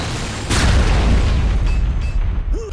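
A grenade bursts in an Unreal Tournament match, a loud close boom with a long rumbling low tail that fills the whole moment, over steady game noise.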